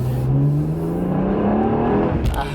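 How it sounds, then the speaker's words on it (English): A BMW 1M with a warmed-up engine accelerates hard, its exhaust note climbing steadily in pitch through one long pull, loud and close, with a brief break near the end as tires fight for traction. "let's do an acceleration first"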